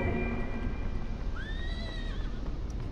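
A single horse whinnies once in the video game Deceit 2, a rising then wavering neigh over a steady background hiss.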